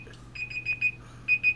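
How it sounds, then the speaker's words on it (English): An alarm goes off in short, repeated high electronic beeps, grouped in quick bursts with a brief pause between groups, moderately loud over a low background hum. "I see your alarm going off as well"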